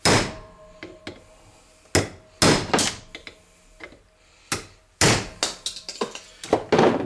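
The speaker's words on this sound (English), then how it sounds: "take a chisel, put it right there in that weld, and smack it a few times with a hammer." A hammer strikes a chisel set in the weld of a scrap transformer casing, giving about a dozen sharp metallic knocks in uneven bursts, close and loud.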